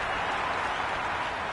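A video game stadium crowd in Cricket 26 applauds a boundary four with a steady, dense wash of clapping and cheering that holds at an even level throughout.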